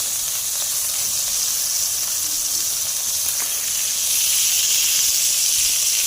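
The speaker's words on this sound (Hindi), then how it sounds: "दोनों साइडों से हमने अच्छे से फ्राई करना है इसे" Chicken tawa kebabs fry in a pan with a continuous, bright sizzling hiss that swells slightly louder near the end, with no talking over it.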